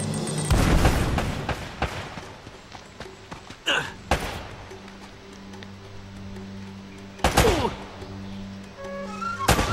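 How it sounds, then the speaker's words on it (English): Gunfire from the video game Uncharted, with a dense volley of shots early, a few isolated blasts around the middle and another loud burst near the end, all over a steady low game hum. "they're shooting at me from inside there"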